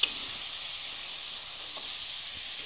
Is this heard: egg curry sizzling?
yes